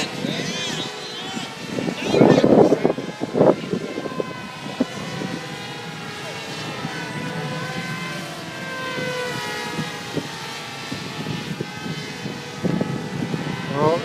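RC model airplanes in an aerial combat event buzz at full throttle, a continuous droning whine that swells and fades as they pass, heard at a distance while people talk and shout nearby.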